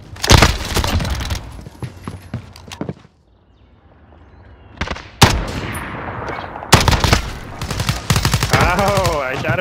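Gunfire in a Call of Duty match on the Shoothouse map: bursts of loud close rifle shots, a brief quiet gap, then more rapid firing and game effects.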